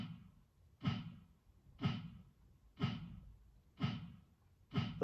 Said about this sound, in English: So here's the bass drum line going throughout the entire song.